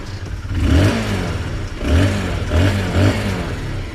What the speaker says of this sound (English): This is the sound if you give it some revs.